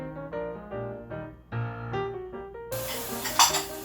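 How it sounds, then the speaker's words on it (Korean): Soaked dishes are washed in a home kitchen sink. Ceramic plates and cutlery clink and ring in a run of distinct knocks, then running water splashes in over them near the end. "그리고 물에 불려놓은 설거지를 합니다."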